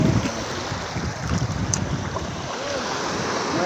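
Strong waves slosh and wash around a small boat at sea, with steady broadband water rush and wind buffeting the microphone, fairly loud and continuous throughout.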